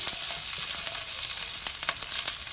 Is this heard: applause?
no